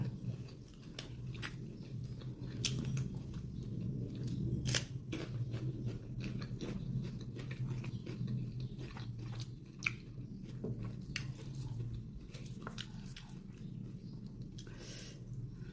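Someone eats Thai pork intestine larb, with soft wet chewing, squishing and crunching bites repeating close to the mic, punctuated by sharper clicks and smacks, with no talking.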